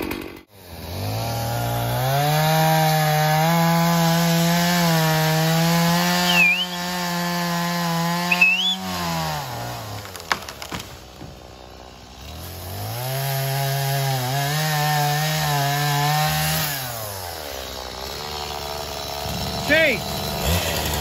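A chainsaw cuts through wood in two long stretches, loud and close, its engine holding a steady labouring drone under load, then dropping away between cuts with rattles and clunks.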